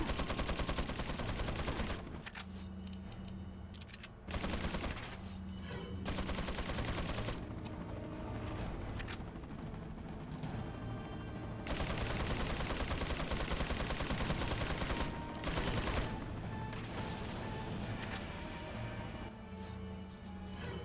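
Gunfire in the video game Resident Evil 4, with dense bursts of shots and heavy rattling volleys filling nearly the whole stretch, broken by a few brief pauses, loud and continuous with no talking.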